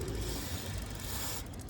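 Bicycle chain and pedals turning over the cog while lubricant is sprayed onto the chain, a steady close mechanical ratcheting whir that runs continuously, with a slight change near the end and no talking.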